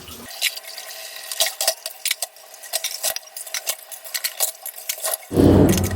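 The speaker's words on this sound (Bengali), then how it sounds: "সর্বপ্রথম যেটা করবো পাতিলগুলো ধুয়ে নিব" Cooking pots being washed by hand, with irregular metallic clinks and knocks, splashing and dripping water close by, ending in a burst of running water from a tap.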